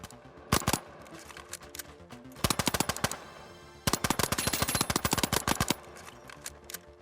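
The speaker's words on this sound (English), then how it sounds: "For the weapon, you have a silenced semi-automatic pistol." Silenced semi-automatic pistol firing in the video game The Finals: rapid bursts of sharp, clicky suppressed shots in quick rhythmic volleys separated by short pauses, close and alone without speech.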